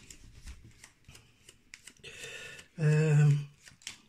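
A deck of cards being shuffled at a tabletop game of Gloomhaven Jaws of the Lion, with light handling clicks and then a loud riffle burst, close up.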